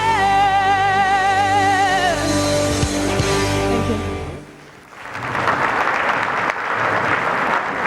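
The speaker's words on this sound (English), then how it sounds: "Do give her a big round of applause indeed for the wonderful Nadine" Sustained applause from a pageant audience breaks out as a singer's held final note and backing music fade, the clapping loud, dense and steady for several seconds.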